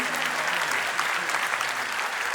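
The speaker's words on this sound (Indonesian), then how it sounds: "Boleh berikan tepuk tangan sekali lagi, hadirin." A concert audience gives sustained applause in a hall. The dense, even clapping from many hands stays steady throughout, and faint voices sit underneath it.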